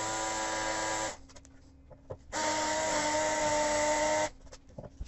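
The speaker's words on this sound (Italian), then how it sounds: "una volta segnato il punto in cui forare, vado a forare con la punta da ferro" Power drill with a metal drill bit boring a hole while fitting a new kitchen sink, two loud steady whining runs of about a second and two seconds with a quiet pause between them.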